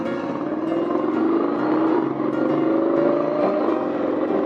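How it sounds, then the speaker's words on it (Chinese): Steady engine and road drone from a 2025 Honda X-ADV scooter riding in first gear at low speed, with faint, muffled gear-shift clicks buried in the continuous hum and no talking. "还是有那个换挡咔咔声啊，可是不明显"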